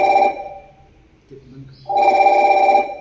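A telephone rings in two loud electronic bursts separated by a short pause with faint murmuring.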